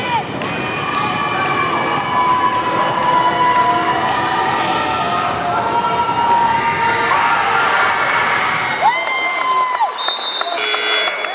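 Loud crowd at a high school boys basketball game, SHS against Boston Latin, cheering and shouting steadily for several seconds, with whistle-like tones and sharp squeaks cutting through before the noise drops away near the end.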